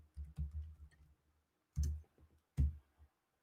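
Computer keyboard being typed on close by, a few quick soft clicking bursts separated by short pauses, quiet with no talk.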